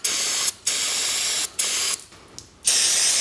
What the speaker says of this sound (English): I spray brake clean through them just to make sure they're clean.